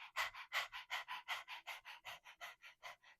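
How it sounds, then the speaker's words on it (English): Rhythmic open-mouthed belly panting during a breathwork exercise, with the tongue out: quick, even breathy huffs, about five per second, close and fairly soft, with no talk over them. "I want you to just begin by letting your belly kind of go and panting, but let your belly do the work."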